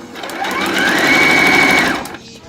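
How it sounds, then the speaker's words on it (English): A sewing machine stitches a line through crepe paper party streamers for a Christmas tree craft, running in one steady, loud, close whir for about a second and a half before stopping. "I'm just going to continue sewing down my party streamers"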